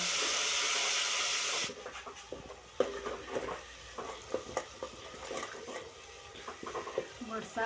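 A spiced cornmeal mixture cooks in a pan, starting with a loud steady hiss of steam and sizzle that cuts off abruptly, followed by intermittent scraping and stirring clatter with a soft bubbling sizzle underneath.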